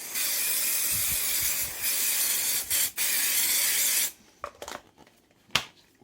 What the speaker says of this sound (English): Just going to put my Bondit silicone release spray on.